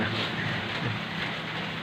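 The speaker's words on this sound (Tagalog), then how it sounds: "ngayon umaga ulan ng ulan" Steady rain hisses down as a dense, even wash of noise, fairly loud and unbroken throughout.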